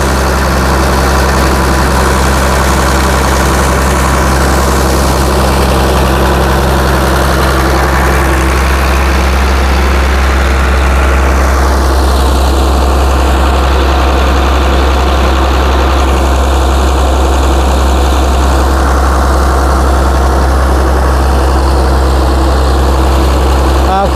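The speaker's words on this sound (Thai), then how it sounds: "เครื่องสูบน้ำตัวนี้นะครับใช้เครื่องยนต์ของ Hino JO7C นะครับ" A large diesel-driven water pump powered by a Hino J07C engine, with a 16-inch pipe, runs at a steady idle. A constant heavy low rumble holds for the whole stretch, close and loud, with no talk.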